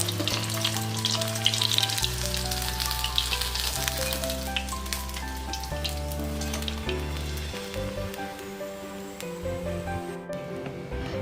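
Continuous crackling sizzle of masala-coated fish deep frying in hot oil, busy and close, with no talking.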